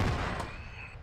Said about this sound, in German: Warum ist der jetzt explodiert?